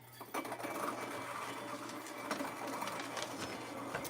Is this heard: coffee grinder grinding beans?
yes